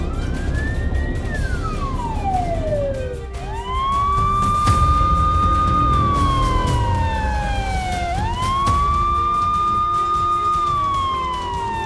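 Police and fire brigade sirens wail at the scene of a car blast in Moscow, loud and continuous, sweeping up and down in long repeated glides with steady traffic rumble beneath and no talking.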